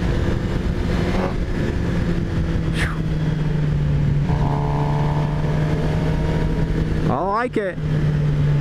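A 2018 Suzuki GSX-R750 engine hums steadily while riding in low gear under wind noise, then revs up sharply near the end; someone speaks briefly over it.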